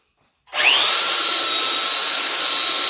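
A power sander starts up abruptly and settles into a steady high whine with gritty friction, running continuously and close by over a large wooden tree cross section.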